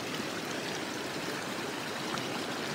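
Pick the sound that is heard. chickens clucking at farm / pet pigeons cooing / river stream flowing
river stream flowing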